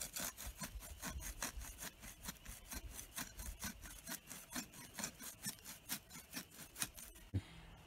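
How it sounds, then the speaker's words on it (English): A handsaw cuts through the dense root mass of an ornamental grass clump laid on its side. It makes quiet, rapid back-and-forth rasping strokes in a steady rhythm that stops just before the end. "That was enough of using the handsaw."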